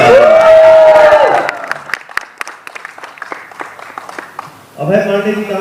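An audience at a Bhojpuri music launch event breaks into scattered clapping and a few cheers after a loud voice on a microphone, with talk resuming at the end.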